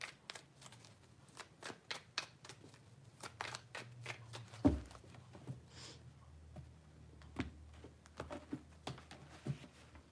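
Tarot cards shuffled over and over in quick, crisp riffles and soft slaps, close and fairly quiet, with a low steady hum beneath and no talking.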